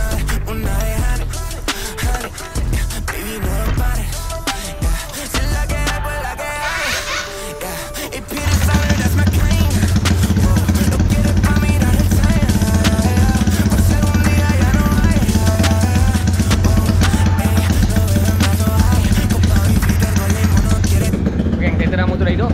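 A motorcycle engine runs steadily and loudly for most of the clip, a constant droning hum with music-like layered tones over it, following a rougher, busier opening stretch.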